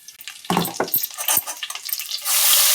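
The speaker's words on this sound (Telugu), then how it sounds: "నెయ్యి వేసుకుని కాగాక తర్వాత సాజీరా వేసుకోవాలి." Shahi jeera hits hot ghee in a pan for veg biriyani, giving a few sharp crackling pops and spatters that settle into a steadily rising hiss of frying.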